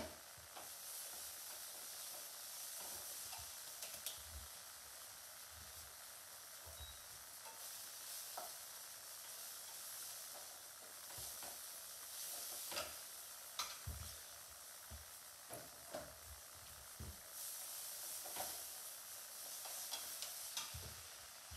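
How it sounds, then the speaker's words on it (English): Coconut milk reduces in a hot pan under a constant bubbling sizzle, while a utensil stirs and scrapes the bottom in irregular knocks and strokes close by, with no talk. "By now, your coconut milk should have reduced a little bit."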